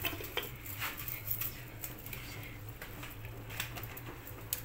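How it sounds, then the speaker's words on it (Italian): Plates and glasses being taken out of a glass-fronted display cabinet in a home, with light clinks and clatters of dishes scattered over a few seconds, fairly quiet and close. "devo tirare fuori i piatti e i bicchieri dalla vetrina"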